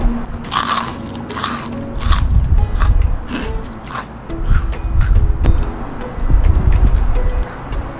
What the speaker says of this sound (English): I just got the bread and a little part of the crunchy momo